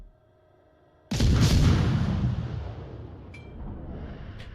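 A single heavy warship gun salvo in World of Warships Legends booms loudly after a quiet second, then rumbles and decays slowly over several seconds, with faint game sounds afterward.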